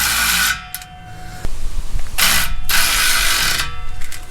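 A hand ratchet clicks rapidly in bursts while tightening the bolts on a Ram truck's exhaust tip, loud and close, with short gaps between the runs of clicks.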